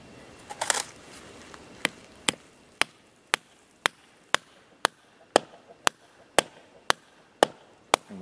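A metal spile being hammered into a maple tree: a steady series of about thirteen sharp, evenly spaced taps, fairly close and crisp, following a brief rustle at the start.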